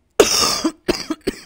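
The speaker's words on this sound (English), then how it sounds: "The coughs are catching me off guard today." A man coughs close to the microphone, one long harsh cough followed by a few shorter, sharper coughs in quick succession, loud against silence.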